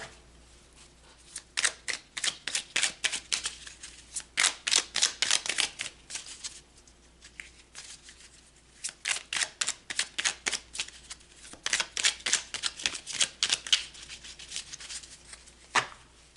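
Tarot deck shuffled by hand in repeated riffling bursts, crisp rapid card flutters close to the microphone with brief pauses between rounds and a few soft taps as cards are pulled.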